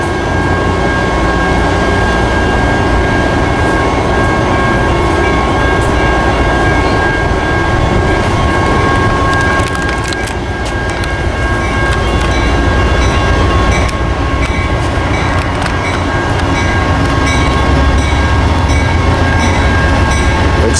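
Train led by locomotive 186 rumbles past loud and close, a continuous roar of wheels and engine with rhythmic clickety-clack and brief rattling bursts, no talk.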